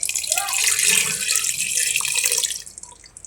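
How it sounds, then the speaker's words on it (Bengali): Water pours steadily from a container onto marinated chicken in a pot, a hissing splashy stream lasting a few seconds before tapering off. "এখন আমি একটু পানি দিব,"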